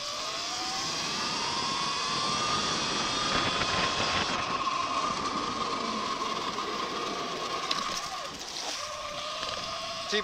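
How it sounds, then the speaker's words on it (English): A DJI Mavic Air 2 drone flies outdoors near a boardwalk with a steady, high-pitched buzzing whine. It holds fairly constant with slight pitch shifts over a broad rushing background, and no clear talk is heard. "I gotta get the drone out and get some footage."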